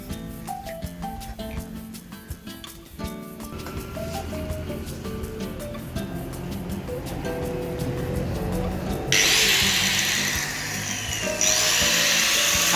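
A cutting machine fitted with a cutting wheel grinds through a bolt from a bike, a steady loud whine that builds and brightens into a harsh high screech near the end.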